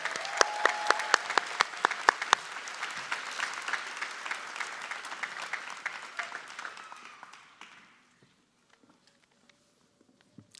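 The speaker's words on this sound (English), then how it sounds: "Can we give all of our graduates a round of applause again" A commencement audience gives graduates a sustained round of applause at a university ceremony, with dense clapping with sharp individual claps standing out. It carries on for about eight seconds before dying away into near silence.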